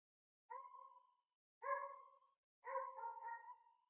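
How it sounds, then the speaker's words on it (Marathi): Three drawn-out, tonal barks from dogs sound in turn with pauses between them, faint and distant against a silent background. "कुत्रे भुकतात तर बघतोय"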